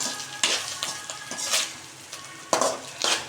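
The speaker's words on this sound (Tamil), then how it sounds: "இப்படி தான் பொரியல் பண்ணணும் மீன் சனை பொரியல்" Fish roe frying in a pan, a close, steady sizzle with a few bursts of louder crackle as it is stirred, and no talking.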